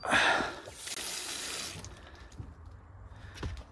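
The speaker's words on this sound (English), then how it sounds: "So we get the water back on and test it out." Water gushing from a tap after plumbing is reconnected, a loud hissing splash at first that settles into a steady, fainter running flow with occasional knocks.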